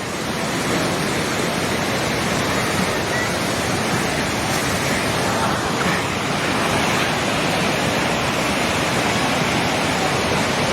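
A steady, loud roar of rushing floodwater fills the whole clip without a break, broad and continuous like a torrent close by, at a flooded Trishuli market.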